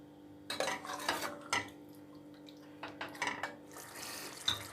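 A spoon scrapes and clatters in a pot as chicken masala is being fried for a boneless chicken chana dal, with irregular bursts of metallic stirring over a low background hum and no talking.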